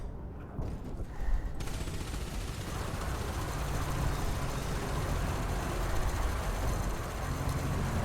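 Spaceship weapons fire in Elite: Dangerous, starting after a brief quiet moment and then running as a dense, continuous barrage of blasts and roaring noise at a steady, loud level until the end.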